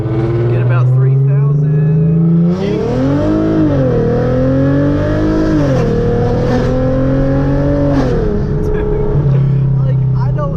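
A Hyundai Genesis Coupe's loud exhaust roars through a full-throttle first-gear pull, the pitch climbing and dipping as revs rise and fall, close and continuous, with voices over it.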